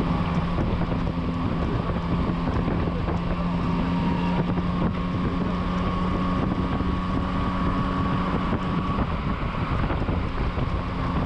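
Loud, continuous wind roar buffets the microphone on a Yamaha Tracer 9 GT motorcycle as it rides along a road. Under the rushing wind comes a steady engine drone with no breaks, and no one speaks.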